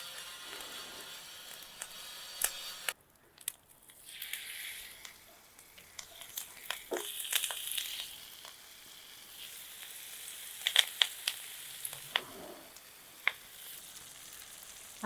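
Red snapper fries Kerala style in hot coconut oil with curry leaves, giving a soft, continuous sizzle broken by scattered sharp crackles and pops, close up with no talking.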